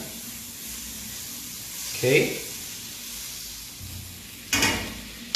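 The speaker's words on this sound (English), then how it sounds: "I'm gonna add 1 tablespoon of butter, okay, to the frying pan" Steady hiss of butter sizzling in a frying pan, with a brief spoken word and a couple of louder bursts of sputtering.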